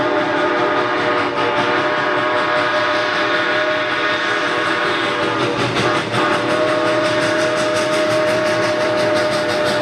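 A steam locomotive whistle with a six-chime sound, as used at the opening of the Polar Express film, holds one long, steady, loud blast. Its layered tones carry on without a break for about ten seconds.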